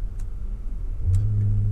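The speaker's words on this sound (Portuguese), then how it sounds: "vou ligar o motor" A Porsche engine starts after a short quiet moment, catching into a low, steady idle rumble heard from inside the car.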